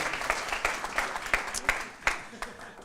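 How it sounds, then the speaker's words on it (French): Applause from an audience at a regional science-communication final and prize ceremony, heard as short irregular clapping bursts under a speaking voice, moderately close. "qu'on peut applaudir"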